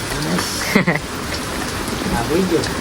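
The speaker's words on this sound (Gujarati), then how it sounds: "વરસાદ ફૂલ શરૂ છે" Heavy rain pours steadily, a dense hiss of drops with brief faint voices and a short tonal sound partway through.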